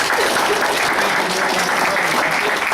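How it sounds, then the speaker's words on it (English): An audience at a ward candidates' forum applauds steadily and loudly, a dense wash of clapping that holds throughout without letting up. "let's give a big round of applause for the candidates"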